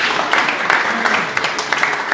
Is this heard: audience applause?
yes